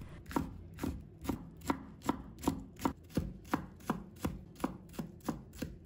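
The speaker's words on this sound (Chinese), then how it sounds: "再把它刀切成条， 然后切成小粒。" A knife chops deseeded chili pepper strips into small dice on a cutting board, about fifteen evenly spaced crisp knocks at a steady quick rhythm, close and clear with no voices.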